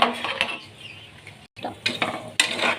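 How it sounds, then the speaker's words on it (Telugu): A spoon scrapes and clinks in a pan as chili powder is stirred into a prawn biryani masala, with scattered bursts of metal-on-pan scraping and a soft sizzle underneath, close and alone. "ఇప్పుడు బాగా కలుపుతున్నాను"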